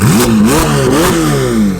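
A car with an IPE titanium exhaust revs hard twice in quick succession, loud and close, with a raspy exhaust note rising and falling.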